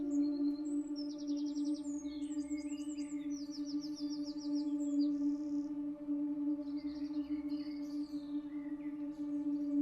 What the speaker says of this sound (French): les chants des oiseaux